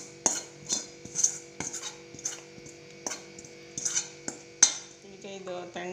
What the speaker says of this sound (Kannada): ಅದಕ್ಕೆ ಬೇರೆ ಬೌಲಿಗೆ ಹಾಕ್ಕೋತಾ ಇದ್ದೀನಿ.